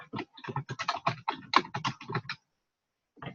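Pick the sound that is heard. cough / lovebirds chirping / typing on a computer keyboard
typing on a computer keyboard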